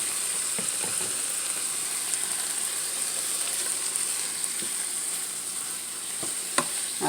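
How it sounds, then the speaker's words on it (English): Vegetables sautéing with red pepper flakes in a pan give a steady, moderate sizzle throughout, with a few light stirring scrapes and clicks scattered across it and no voices. "then you just saute this for just a few minutes"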